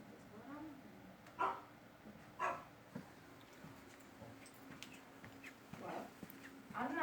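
A dog barks several times indoors, with short, somewhat faint yips and woofs spaced a second or so apart over a low background hum, while a person talks quietly nearby.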